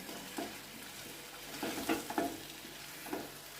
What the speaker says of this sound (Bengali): জল দিয়ে এখন ভালো করে কষিয়ে নিতে হবে।